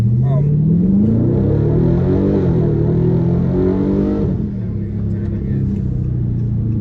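A Dodge Daytona 392 accelerating and sliding, its engine rising in a deep, loud roar before easing off, heard from inside the car while people talk over it.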